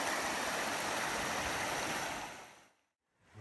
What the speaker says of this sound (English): There's a really nice creek over here.